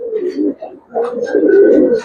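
Silver Giribaz pigeons coo nearby in soft, low rolling phrases, two short bursts separated by a brief pause.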